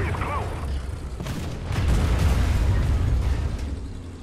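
Bombs burst among Matilda and Panzer tanks in a desert tank-battle video game, a deep rumbling boom swelling midway and lingering loudly before slowly fading.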